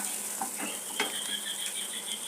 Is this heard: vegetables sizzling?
yes